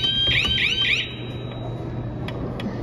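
Custom anti-shake alarm on an arcade machine, three sharp rising electronic whoops in quick succession, then a fading high tone that lingers over room hum, loud and close, no talking.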